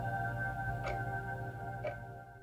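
Clockwork gears hidden inside walls tick faintly, with two soft, evenly spaced ticks about a second apart over a steady low mechanical hum.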